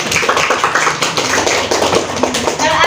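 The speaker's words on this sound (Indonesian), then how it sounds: "Silakan tepuk tangan lagi untuk kelompok 3." A classroom group claps for a presenting team, a loud, dense patter of hands lasting a few seconds with some voices murmuring underneath.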